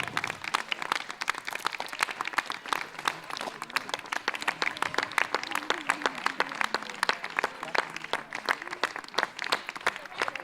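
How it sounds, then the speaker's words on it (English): Loud audience applause fills the hall at a men's drama performance during a 98th birthday celebration, with dense rapid clapping sustained throughout and a faint murmur of voices beneath. "let us give them a loud applause."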